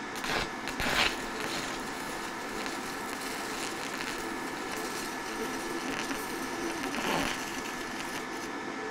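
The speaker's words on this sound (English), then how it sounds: "I haven't welded stick in a long time." Stick welding thin metal with a multiprocess welder at low amperage: a steady, close, crackling buzz that runs throughout with brief louder sputters, while a voice comes in faintly at moments.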